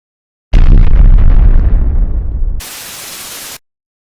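A bomb explosion sound effect bursts in loudly, booms and fades for about two seconds, then cuts abruptly to a flat burst of hissing static before ending in silence.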